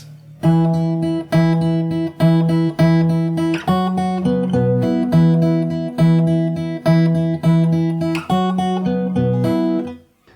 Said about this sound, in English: So the intro sounds like this.